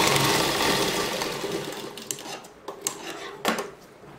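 A sewing machine top-stitches the neckline of a maternity dress: a dense mechanical whirr for the first couple of seconds, then it slows and stops, followed by sharp clicks and small fabric handling noises.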